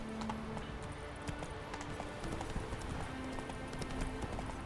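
In The Witcher 3, the horse Roach clops along with a steady rhythm of hoofbeats over a busy game ambience, the steps moderately loud and continuous.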